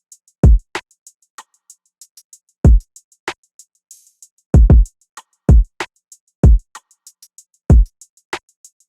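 A sparse dark R&B drum beat built in FL Studio: deep kicks thump at a steady pace, crisp hi-hats tick a bouncy rhythm and a rim shot snaps now and then. The sound is clean and close, with no voices.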